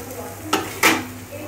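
Ivy gourd (kundri) frying in a pan, with a steady low sizzle and two quick scraping stirs of a utensil against the pan, fairly close, with no talking.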